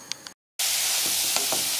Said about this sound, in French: je fais chauffer de l'huile dedans